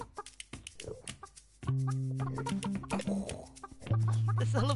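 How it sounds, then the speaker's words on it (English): Chickens cluck and squawk in a busy burst, with a low steady hum underneath, game sound effects from Burly Men at Sea on PS4 rather than a real farmyard. "Cute chickens."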